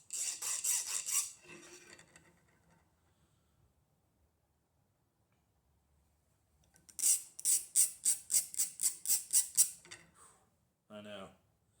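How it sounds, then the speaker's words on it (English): A silver ring being scraped and filed by hand on a workbench: close, rasping strokes in quick rhythmic bursts, a run at the start and a longer series of about a dozen strokes later, separated by silence. "I'm sorry if you're out there seeing me scraping away."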